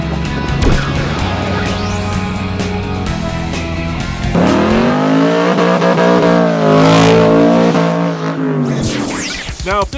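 A 2013 BMW X1 xDrive 35i engine revs hard through a 0-60 mph run, its rising drone climbing steadily, pausing at a gear change, then pulling up again, loud and close with no talk.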